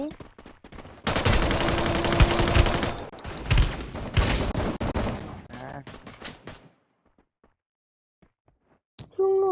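Gunfire in the Free Fire shooter game: a loud, dense burst of rapid automatic shots lasting several seconds, then scattered single cracks fading to near silence before a final sharp noise.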